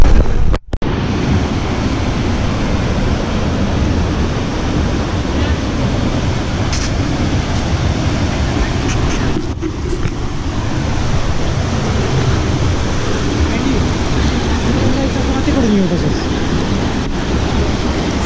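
Water from Sautada waterfall crashes in a constant, broad roar, steady and fairly loud across the whole stretch, with occasional wind bumps on the microphone.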